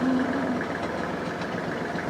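A Kubota GL 25 tractor engine idles steadily nearby with a low, even chugging rumble and slight knocking, with no talk.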